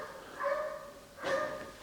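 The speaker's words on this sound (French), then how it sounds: "Il y a le chien du clodo qui aboie." A homeless man's dog barks twice from some distance, each bark a moderate, tonal yelp standing clear of a quiet background.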